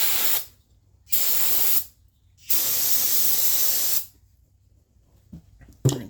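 Spray rinsing a part from a Stihl MS-251 chainsaw, three loud close hissing bursts of about one to two seconds each, then quiet handling sounds.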